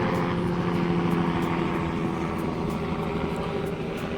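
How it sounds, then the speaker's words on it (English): Helicopters passing over a Phoenix urban garden in the morning, a steady broadband rotor and engine drone that holds loud and even throughout, with no talk over it. "Morning choppers."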